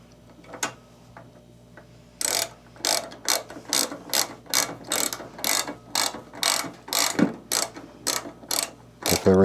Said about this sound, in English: So before we tighten anything down, we need to get our fender bolts back in.